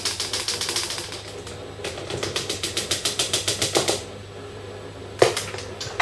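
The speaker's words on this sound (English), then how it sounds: "we're going to use a sieve to sift in the flour" Flour being sifted through a metal sieve for angel food cake batter, a rapid run of soft rhythmic tapping and shaking pulses close by, pausing briefly before another burst and a sharp knock.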